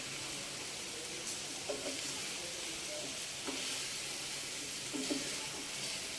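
Bitter gourd frying in a pan with a little water, a steady close sizzle with occasional soft stirring clinks and bubbling.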